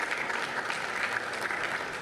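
Audience applause at a city commission meeting, with steady, moderately close clapping from a room full of people, sustained throughout.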